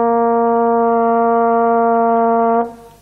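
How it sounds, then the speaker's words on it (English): A trombone blown by a presenter on a children's TV programme sustains one steady, reedy brass note for about two and a half seconds before stopping abruptly, heard close and clear with no talk over it. "OK, I'm going to take this trombone here, and I've just got to blow in the end here, don't I?"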